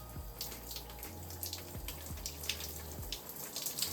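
Water runs from a shower as a continuous, even hiss with light splashing and a few soft low thumps, close by and with no talking.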